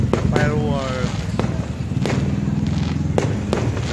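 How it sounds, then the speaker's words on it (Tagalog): Outdoor fireworks burst in a quick run of sharp booms and crackles against a constant crowd roar, with a whistling rocket rising early on. "Fireworks."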